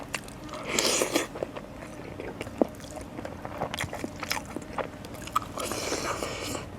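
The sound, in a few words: crunchy food being chewed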